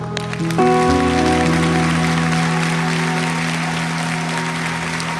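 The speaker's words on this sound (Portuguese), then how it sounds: "Um aplauso ao povo do celeiro" A church congregation applauds, a steady broad wash of clapping heard under sustained music chords.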